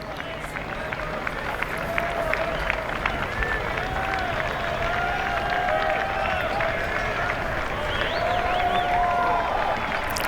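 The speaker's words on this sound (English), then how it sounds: "the applause for Rory McIlroy as he approaches" Golf spectators at the Masters Tournament clap and murmur steadily outdoors as Rory McIlroy approaches, a broad wash of applause and crowd noise under a voice speaking.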